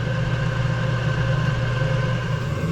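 A diesel heater running rich with its airflow restricted gives a steady, droning combustion hum with a low rumble and faint tonal whine, constant and close, with no voices.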